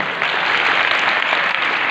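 Dinner audience applauding steadily at a political dinner in Malaysia, a dense, continuous clapping from a sizable crowd heard up close with no talk over it.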